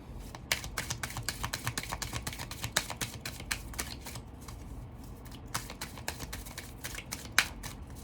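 Tarot cards being shuffled close up, a steady run of soft papery riffles and flicks with sharper snaps scattered through, no voices over it.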